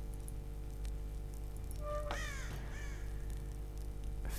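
A bird in the video game Drawn 3 gives a single harsh crow-like caw with a short echoing tail, heard over a constant low hum and quiet game ambience.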